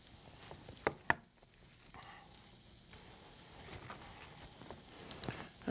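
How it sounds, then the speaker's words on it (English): Trout fillets sear in a hot pan, giving a faint, steady sizzle with a couple of sharp clicks early on and no talking. "put that pan back on the heat, and sear them right into that pan. You can hear the sizzle start."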